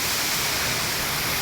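A waterfall roars with a steady, dense wash of falling water, loud and continuous with no pauses, and no voices can be heard.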